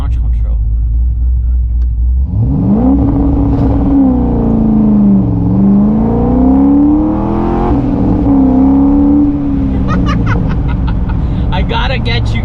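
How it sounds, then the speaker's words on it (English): A C6 Corvette's engine is revved up on launch control, climbing from a deep idle to a loud held rev that wavers and holds near a limiter with crackling pops, while people talk excitedly nearby. "let's see if I can do a launch control."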